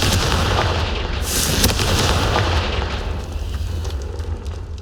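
In the video game Hogwarts Legacy, a Confringo fire spell blasts with a loud, sustained explosive roar: dense rumbling and crackling noise fills the whole stretch and slowly tapers without a pause.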